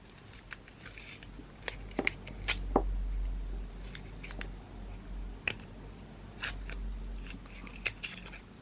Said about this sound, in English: I'm just gonna take the tape off these